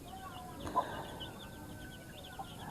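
Chickens cluck softly at a moderate distance, with a few brief, scattered calls over a quiet background hum and no people talking.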